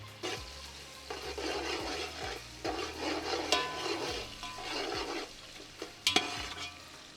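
Sliced onions fry in a pan for chicken biryani, giving a steady crackling sizzle broken by scraping stirs and a few sharp clanks of the utensil near the end. No one speaks.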